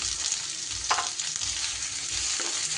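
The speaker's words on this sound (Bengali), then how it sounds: "পেঁয়াজটা একটু নাড়াচাড়া করে নেব।" Chopped onion fries in a little oil over a cooked tempering, a dense continuous sizzle close up with a couple of soft stirring scrapes, no voices.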